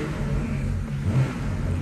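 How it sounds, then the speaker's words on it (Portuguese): A Porsche engine being warmed up, a steady low rumbling idle with a slight rise in revs near the middle, close and continuous throughout. "vamos dar aquela esquentadinha aqui no motor antes de nós ir pra aquele fogo"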